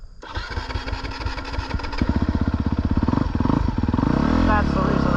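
A 2022 Honda CRF250R dirt bike engine being ridden: a choppy, uneven start settles into a loud, rapid, steady four-stroke pulse, close to the microphone, with the revs rising and holding toward the end.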